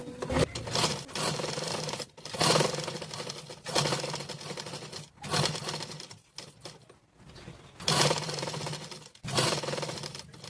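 A sewing machine stitches a folded patchwork piece for a blouse in loud, close bursts of rapid whirring, each run lasting one to two seconds and separated by short pauses.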